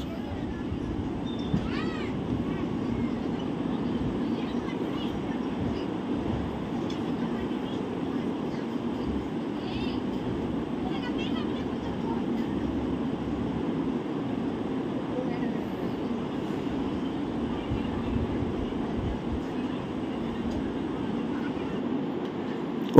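Inside a moving Vaigai Express train in India, a steady low rumble of wheels and carriage runs throughout, with faint chatter and occasional brief squeaks.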